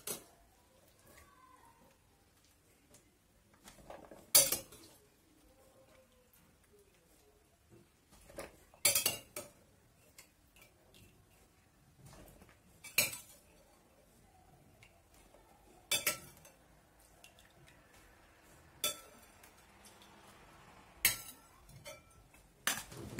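Green beans are scooped with a metal strainer into a bowl of ice, giving sharp clinks and clattering knocks at irregular intervals against a quiet background, with no voices.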